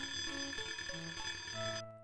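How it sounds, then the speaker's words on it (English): An alarm rings continuously on a ship in the 1994 Death Gate video game, a steady, shrill electronic bell tone with shifting low tones beneath it, cutting off abruptly near the end. "You find it quite easy to sneak by the guard while he's busy, trying to get the alarm to stop."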